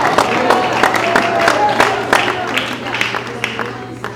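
A church congregation gives weak, limp applause, a loose patter of scattered hand claps that never builds, heard under a low steady hum.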